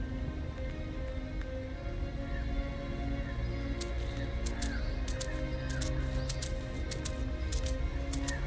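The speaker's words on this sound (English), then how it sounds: "Hear that? Bird! Good bird, it found us." In The Lord of the Rings: Gollum video game, a crow-like bird caws in a run of harsh, repeated calls that begin partway through, over a steady, low ambient drone.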